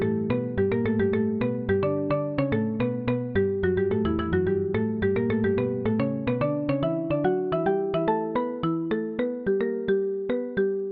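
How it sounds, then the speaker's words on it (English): Mallet percussion from a software instrument plugin plays a quick, mischievous melodic passage of struck, ringing notes in steady rhythm, clear and solo with no voices. "I started playing around with some mallet percussion through Augmented Mallets Play"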